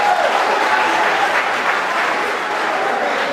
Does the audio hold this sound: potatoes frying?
no